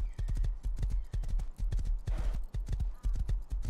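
Horse hooves clip-clopping in the survival game Rust, a fast, close, steady galloping rhythm of heavy thuds with a brief whoosh of movement midway.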